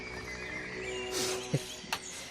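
Horses neighing in a video game: a drawn-out whinny over a steady background, followed by a couple of short snorts or hoof sounds nearby.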